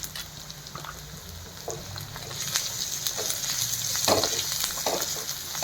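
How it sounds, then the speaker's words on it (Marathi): Spices with turmeric and chilli powder sizzle and fry in a pan for a Maharashtrian drumstick pithale, a soft, steady crackle with occasional stirring scrapes that grows slightly louder midway, no voices. "आता हे छान परतून झालेलं आहे."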